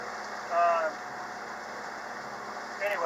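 Steady idling drone of a sailboat's engine motoring while crossing the Gulf Stream, with brief voices breaking in over the continuous hum.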